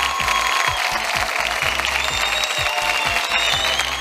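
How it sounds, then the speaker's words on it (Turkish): Studio audience applause on a Turkish fashion competition show, dense continuous clapping at close range, with a rhythmic thumping beat pulsing underneath throughout. "Alkışlar mısınız"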